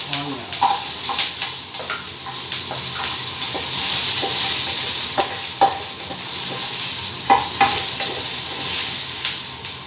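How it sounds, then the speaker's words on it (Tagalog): An onion sautéing in a pan for pork kaldereta gives a steady sizzle, broken by repeated clinks and scrapes of stirring. "Now, we need to saute the onion."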